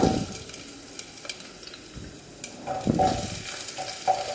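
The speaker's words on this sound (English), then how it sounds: "Now we want to start by adding in the vegetables, the hardest vegetable first, which are the carrots." Carrots hitting hot oil with frying cumin seeds for Kerala aviyal, a steady sizzle with stirring scrapes and occasional clinks in the pan, close and moderately loud, no talking.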